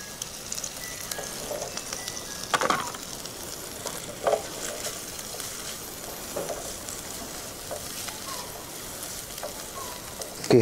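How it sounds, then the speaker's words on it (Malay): Anchovies frying in a pan on an indoor kitchen stove give a steady crackling sizzle throughout, broken by a few louder spits and pops, close by with no talking. "Goreng dulu ikan bilis."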